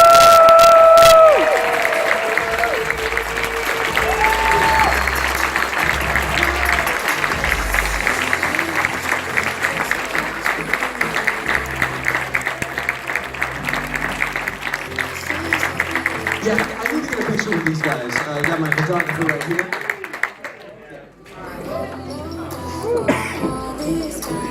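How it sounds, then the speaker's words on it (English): A convention crowd at a closing ceremony gives sponsors a long round of applause with scattered cheers and whoops, dense clapping that tapers off near the end, followed by coughs and murmuring. "Let's do a round of applause for our sponsors."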